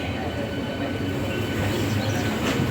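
Empty train coaches roll past at Lingampet railway station in a loud, steady rumble, close by, with faint squeals of the wheels running through it.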